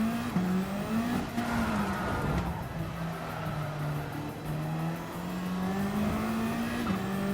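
Race car engine in the racing game Gran Turismo 7, driven on a wet track, holds a loud, steady drone through the whole stretch, with its pitch dipping and rising as the revs change and no voices over it.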